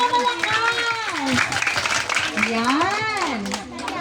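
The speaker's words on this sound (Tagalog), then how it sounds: "Palakpak para kay Lord," Children clapping for the Lord at a gathering, a burst of applause mixed with lively kids' voices and chatter, close and loud throughout the clip.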